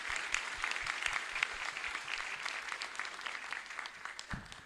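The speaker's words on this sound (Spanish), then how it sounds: "Y un fuerte aplauso para todos ustedes." Church congregation applauding at the end of a Catholic Mass in the Las Mercedes chapel in Areguá, a steady, moderately loud wash of many hands clapping with no voices on top.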